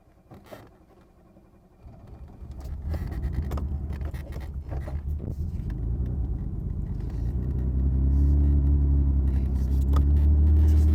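Mercedes car engine starting and revving up as it drives off, a low rumbling motor building steadily louder over about eleven seconds, with a few faint clicks and knocks early on.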